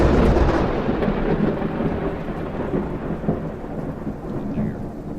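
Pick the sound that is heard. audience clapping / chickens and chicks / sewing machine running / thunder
thunder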